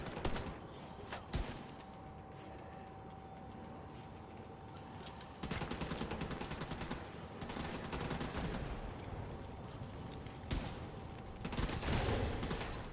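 Pistol fire in a shooter video game, with dense crackling bursts of shots over continuous busy game noise and a faint steady tone, some shots sharper and closer than others.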